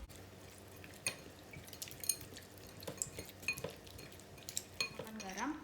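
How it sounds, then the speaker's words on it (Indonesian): A spoon stirs ingredients in a bowl while making galangal fried chicken, giving quiet scraping and clinking with light wet sloshing, close and soft, in irregular taps over a few seconds. "Diaduk-aduk."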